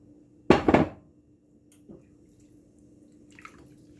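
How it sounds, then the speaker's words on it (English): Water splashes into a pot of seasoned rice in a short burst of pouring lasting about half a second, followed by a faint knock and small clinks in a quiet kitchen with a low steady hum. "cover this with water."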